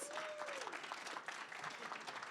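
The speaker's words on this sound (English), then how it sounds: "let's give a round of applause for Gunstar Heroes." Audience applause at a speedrunning charity event, a continuous patter of many hands clapping at a moderate distance, with a brief faint whistle-like tone early on.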